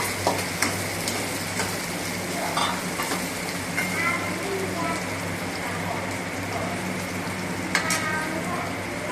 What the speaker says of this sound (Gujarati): બીજા પણ ટામેટાં નાખીને સાતળવા દઈશું.